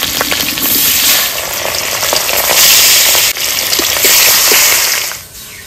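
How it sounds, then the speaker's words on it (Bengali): Rohu fish frying in hot mustard oil in a pan, a loud, steady hiss and crackle that runs close and unbroken for several seconds before dropping away at the end, with no talking. "তেল গরম হয়ে গেছে, মাছগুলো দিয়ে দেবো।"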